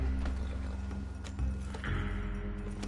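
Horse hooves clip-clop steadily in the Red Dead video game, a close, even rhythm of hoofbeats over a constant low rumble of game sound, with no talking.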